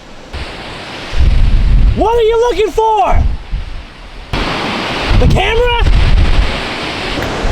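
Ocean waves crash below a bridge on the California coast, a steady loud roar of surf with swelling bursts, while people talk over it.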